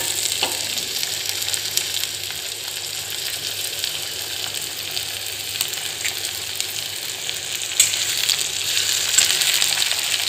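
Chopped tomatoes sautéing with onions in a pan: a continuous, fairly loud frying hiss with light stirring scrapes and a few sharper clatters toward the end.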